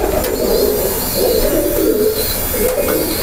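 Baku pigeons coo in a loft in Mashtaga, a close, loud, soft rolling coo repeated in steady phrases over a constant background hum, with no talking.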